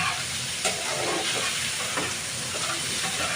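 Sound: potatoes frying in a pan

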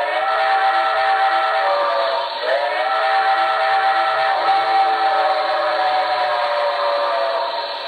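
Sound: model steam locomotive whistle

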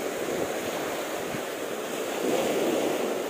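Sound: sea waves on a choppy shore

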